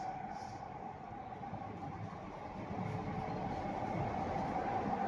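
Carriages of a Mumbai local train rumble and rattle steadily as the train rounds a bend heading toward Wankhede, a continuous close roar with a faint squeal, growing a little louder toward the end.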